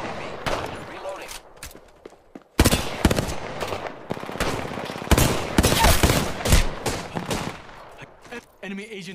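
Video game gunfire from Apex Legends comes in rapid automatic bursts and scattered single shots at close range, loud and choppy, with brief gaps and character voice lines between the volleys.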